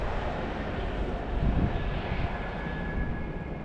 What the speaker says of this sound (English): That's a Finland plane.